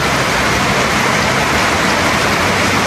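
Heavy rain pours down in a dense, loud, unbroken hiss that fills the whole moment with no voices.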